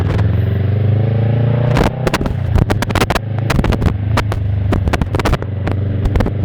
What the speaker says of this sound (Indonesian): Ya ini knalpot sih, knalpot lokal Rockvan anjay itu, tapi enak banget knalpot.